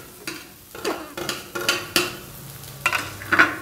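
A spoon stirs and mashes boiled potatoes together with cooked peas in a pan, making a series of soft scraping knocks and clinks at an uneven pace, close by, with a faint sizzle underneath.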